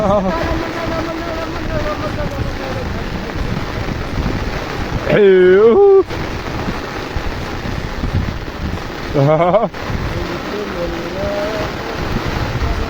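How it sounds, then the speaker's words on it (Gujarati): Heavy rain driven by strong gusting wind in a storm, a constant loud roar of wind and downpour with buffeting on the microphone and brief voice-like tones rising above it. "એકલા તો બીક લાગે એવું છે ભાઈ પવન સાથે વરસાદની."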